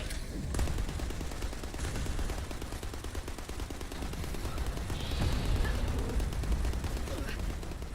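Sustained automatic gunfire in the video game The First Descendant, a dense rapid rattle of shots mixed with explosive game effects, loud and continuous throughout.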